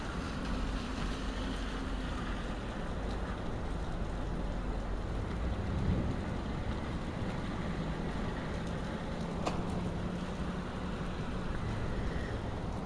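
Heavy rain during a severe wind storm in Omaha, a steady dense roar of rain and gusting wind holding at an even level throughout, with no voices.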